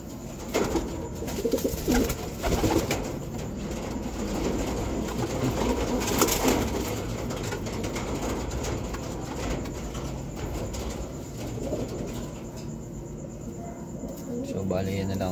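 Pigeons coo softly in a dense, noisy background of fluttering and rumble, with a voice talking at times.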